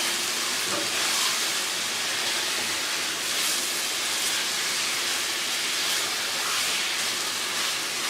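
Beef liver frying with ginger garlic paste and spices in a pan gives a steady, fairly loud broadband sizzle and hiss that holds evenly throughout with no talking.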